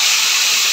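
Spices tempered in hot oil are poured into kala bhuna, a Bangladeshi black-braised beef dish, giving a steady, loud broadband hiss of sizzling close by with no talk.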